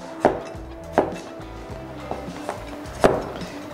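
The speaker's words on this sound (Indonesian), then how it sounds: "Lalu ini timunnya kita belah dua, terus dipotong miring-miring kayak gini." A knife cuts halved cucumber diagonally on a cutting board, with five distinct chopping knocks at an irregular, unhurried pace, close up.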